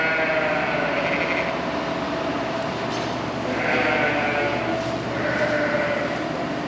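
Sheep bleat repeatedly in a lambing barn, loud and close, with several long calls overlapping a steady background hum and farm noise.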